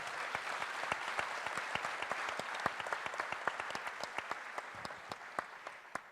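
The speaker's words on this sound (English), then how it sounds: "Please join me on a huge round of applause for our phenomenal panel." A live audience claps for a panel at a community foundation annual meeting, a dense wash of steady applause with sharp individual claps standing out, sustained throughout.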